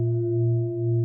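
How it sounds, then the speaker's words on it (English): Singing bowl played for a guided meditation: a steady, sustained resonant tone with several clear overtones, loud and even, alone without speech. "Option number 2 is playing the singing bowls."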